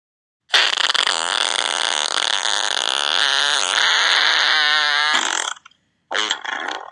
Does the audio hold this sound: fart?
yes